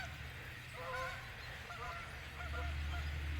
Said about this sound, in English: Couple lone geese in that mix.